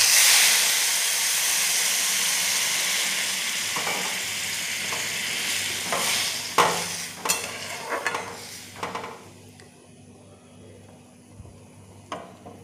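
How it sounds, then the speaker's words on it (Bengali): Hot water poured into a pan of well-fried rice and lentils for bhuna khichuri sets off a loud, steady sizzle and hiss with stirring, fading after several seconds into scattered clinks and softer bubbling. "চাল আর ডালটা আমার ভালো করে ভাজা হয়ে গেছে, এবার আমি গরম জলটা দিয়ে দেবো"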